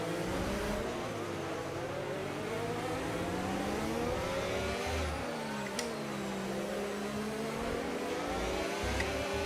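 Koenigsegg engine in a racing video game, a steady high droning whine with gear-like pitch sweeps rising and dipping, loud and continuous throughout with a couple of sharp clicks.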